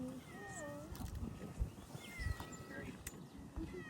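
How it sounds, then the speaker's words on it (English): A cow-patterned house cat named Duchess meows a few times in a garden setting, her calls rising and falling over soft background noise, footsteps and a voice speaking nearby. "This is one of my cats that you may pet"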